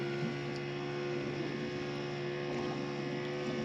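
A power lift raising the outboard motor on a 1993 Duckworth 24-foot Magnum boat, a steady electric whine over the engine's idle hum, continuous and close with no talking.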